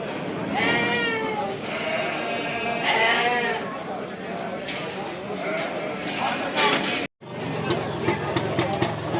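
Romanov sheep and other livestock at the Kadirli animal market, repeated close bleats with more calls behind them, under the busy murmur of a crowd and talking voices.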